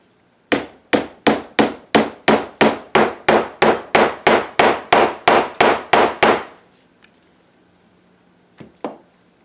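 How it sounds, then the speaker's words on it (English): A rapid, steady series of about fifteen sharp hammer blows through paper in an art journal, close and loud, then a pause and a couple of lighter taps. "Might need a little hammer here"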